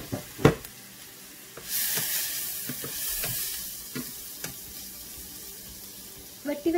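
Carrots sizzle and fry in a pan for egg fried rice, a steady hiss swelling partway through, punctuated by sharp clanks and scrapes of a spatula stirring against the pan.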